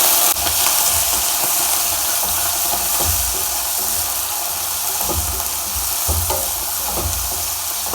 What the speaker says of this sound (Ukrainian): на сковорідку і обжаруємо